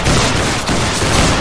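Massed musket volley in the game Battle Grounds III, a dense loud crackling burst of many shots blending into a continuous roar with no clear gaps.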